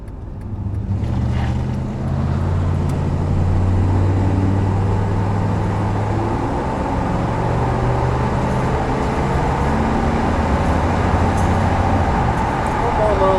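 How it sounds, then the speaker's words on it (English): A red 1989 Chevrolet C1500 pickup with a 5.7 V8 and low mileage accelerates hard, a deep, steady engine drone held for several seconds under heavy wind buffeting. "Aggressive acceleration there for you on a Friday evening"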